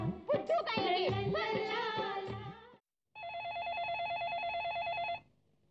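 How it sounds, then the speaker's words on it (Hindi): A telephone rings with a rapid warbling electronic tone, following a short burst of music, clear and close. "अमृता, अरे जरा फोन देखना।"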